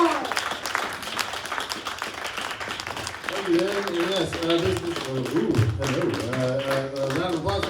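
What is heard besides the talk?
audience applause for performers at a poetry event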